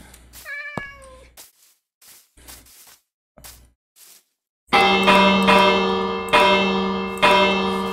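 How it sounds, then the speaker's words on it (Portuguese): A bell rings in the Minecraft Education video game, striking about four loud, resonant times in the second half with long ringing decay, after a stretch of short game sounds and a rising meow-like cry. "Tem um sino."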